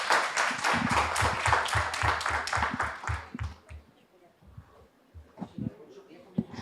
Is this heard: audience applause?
yes